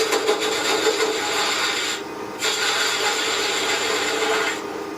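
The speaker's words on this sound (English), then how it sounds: "With a detail gouge, I want to just put a little shape to the part that would be the ground." A detail gouge scrapes and rasps steadily across a wooden lighthouse carving, shaping the ground area with continuous close rubbing strokes and a brief pause partway through.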